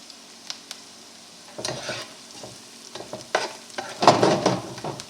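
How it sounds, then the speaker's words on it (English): Onions sautéing in a pan for Salisbury steak: a low background sizzle broken by irregular scraping and clattering stirring strokes, which grow louder and busier toward the end. "so our onions are sauteing nicely"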